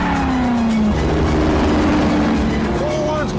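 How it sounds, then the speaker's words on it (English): A muscle car sets off at speed with its tyres pumped up hard, the engine roaring loud and steady throughout with a rising tone, while a voice talks over it. "With my tyres pumped up to the point of exploding, I set off after Hammond."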